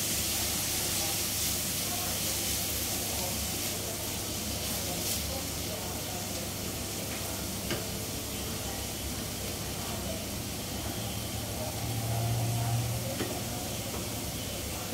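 Carrots stir-fry in a pan with minced beef at medium heat, giving a steady low sizzle and hiss that runs throughout, with occasional scraping stirs and a close steady background.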